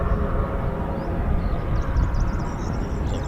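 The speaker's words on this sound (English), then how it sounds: "There's one taxiing out for departure." An RAF training aircraft taxiing out for departure at Cranwell, a steady propeller engine drone at moderate distance over outdoor background noise, with no voices.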